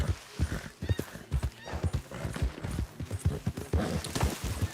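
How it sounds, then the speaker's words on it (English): A horse in a video game neighs and whinnies while its hooves clop in a quick, steady rhythm, loud and close, agitated by a nearby predator. "Your horse is agitated by a predator."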